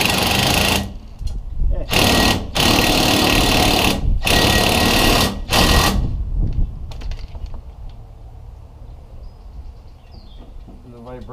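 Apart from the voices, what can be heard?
electric tool tightening down a bolt on a trailer jack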